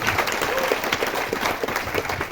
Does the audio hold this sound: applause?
yes